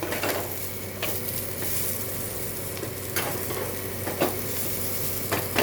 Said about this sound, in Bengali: খুব কম তেলে ভাজাটা হয়ে গেছে।